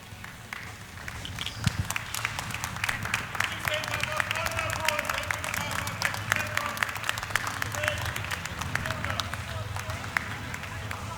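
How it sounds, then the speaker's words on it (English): A crowd gathered on stage for a group photo at a Saudi baggage handling factory inauguration breaks into sustained applause, with sharp individual claps standing out against a continuous wash of clapping and light background chatter throughout. "let's give them a round of applause, please"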